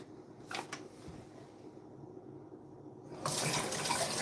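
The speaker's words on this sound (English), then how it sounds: "Excuse me while I wash my hands again." Running tap water gushes into a sink as hands are washed, rising suddenly to a loud steady stream after a few seconds of quieter rustling, close and alone.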